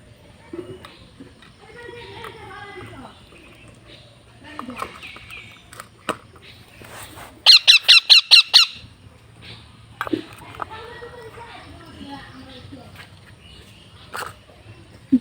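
A pet parakeet kept in a cage gives a quick burst of about seven sharp, shrill squawks, loud and close, between stretches of people talking nearby.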